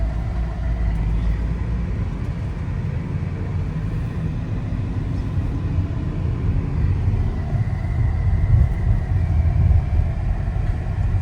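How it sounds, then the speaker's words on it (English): A bus passing close by in traffic, a dense low rumble that builds slightly toward the end, heard from inside a Renault Grand Koleos 2026 with no talk. "Let this bus pass away."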